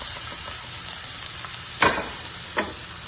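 Garlic frying in a hot pan: a soft continuous sizzle with a couple of brief louder spatters or stirs, close and alone.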